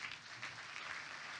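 Audience at a 2024 New Year wishes ceremony claps steadily in a dense, even patter of applause, fairly faint and distant, lasting only a moment with no voices over it.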